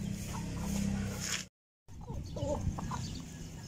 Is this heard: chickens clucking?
yes